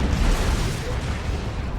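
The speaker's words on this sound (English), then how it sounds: "Demolisher cannon, boom." A Demolisher cannon fires and explodes in Dawn of War 2 during an Orks versus Imperial Guard battle, producing a deep rolling boom and dense rumble that fills the whole moment.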